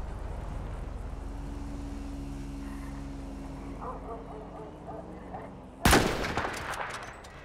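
A single sharp gunshot in a cops role-play game, one loud crack near the end after a quiet stretch of faint background ambience.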